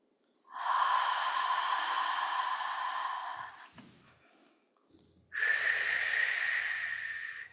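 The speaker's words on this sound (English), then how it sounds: "A few deep breaths." Two long, deep breaths during a yoga session, a slow airy inhale-like rush followed by a pause and a second breathy exhale, close and unhurried.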